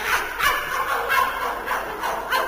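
A voice imitates a dog's bark, passed off as a rooster barking: a few short yapping barks in quick succession, fairly close and moderately loud.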